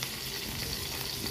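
Fish frying in a pan gives a steady, dense sizzle that runs evenly throughout with no voices.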